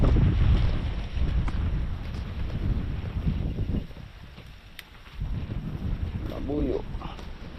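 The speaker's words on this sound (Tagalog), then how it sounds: "Paspas na ng hangin." Strong wind roars and buffets the microphone in gusts, easing briefly before surging again, with a voice speaking underneath.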